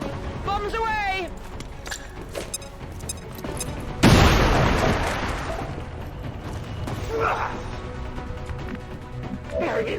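Bombs explode in a video game as one heavy, close boom lands about four seconds in and slowly fades. Voices talk before the blast and again afterward.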